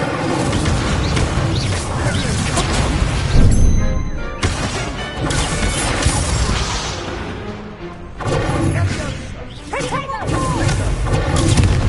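Spell combat in Hogwarts Legacy, the Incendio fire spell crashing and booming amid a loud, continuous barrage of impacts, whooshes and thuds from the game's battle.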